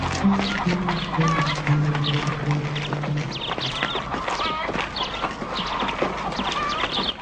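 Chickens cluck at a busy market stall where one chicken sells for one dirham, mixed with hoof clops and murmuring voices in a steady, crowded din.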